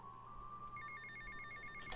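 A mobile phone rings inside GTA Vice City, a steady electronic ringtone of repeated short tonal bursts over a constant game hum, fairly clear and without talk.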